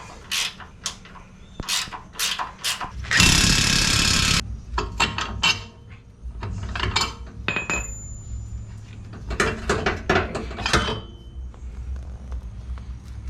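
Ratchet and 15mm socket working frame bolts on a 2021 Ford Bronco during a lift kit install, with quick clicking bursts and metallic clinks, one longer rattling burst, close and fairly faint, no talking.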